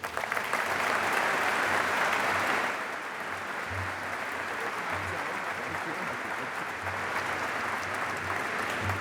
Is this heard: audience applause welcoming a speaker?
yes